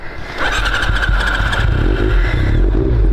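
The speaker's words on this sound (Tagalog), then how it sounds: "Kaya i-testing natin tong motor." A motorcycle engine revs and pulls steadily on rough off-road ground strewn with large rocks, loud and close throughout, with a brief quieter start before the engine note rises and holds.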